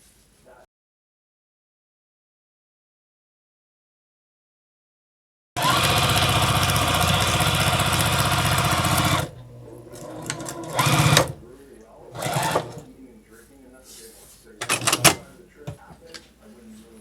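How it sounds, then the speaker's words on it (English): A sewing machine runs steadily for about four seconds, stitching down a quilt block, then stops; afterward come softer clicks and bumps of handling the fabric. "I'm going to sew all the way down the block"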